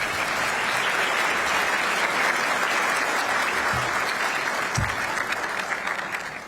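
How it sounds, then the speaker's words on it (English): A conference audience at a dinner event applauds after a presentation, with loud, sustained clapping from a large crowd running the whole length with little change. "Well, one more round of applause."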